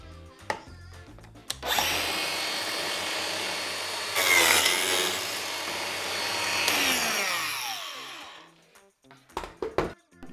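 A Makita DPJ180Z 18V cordless biscuit joiner mills a slot in wood, a loud, steady whining cut of several seconds with a brief surge midway, followed by quieter handling knocks.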